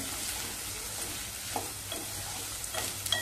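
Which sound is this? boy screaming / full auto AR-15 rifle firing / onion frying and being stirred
onion frying and being stirred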